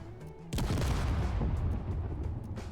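Explosions striking base shields in the video game Space Engineers: a sudden heavy boom lands, then a rumbling wash of blasts and crackle rolls on, loud and close.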